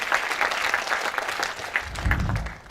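Audience applause at a startup incubator event, a brief burst of clapping that carries steadily for under three seconds with a low rumble near the end.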